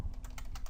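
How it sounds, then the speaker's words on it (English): Keys on a computer keyboard are typed while entering an email address, four or five quick close clicks in a brisk rhythm. "In the email address field, simply type in your email address."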